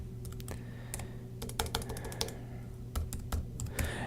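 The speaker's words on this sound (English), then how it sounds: "I might type in various units of study" Keys clatter on a computer keyboard in irregular bursts of close, crisp clicks, with short pauses between runs of typing and a steady low hum underneath; no one speaks.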